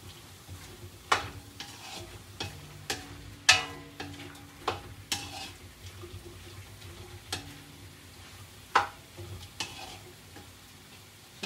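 Menudo being stirred in a frying pan: sharp, irregular clacks of a spoon against the metal over a quiet background sizzle, with no one talking.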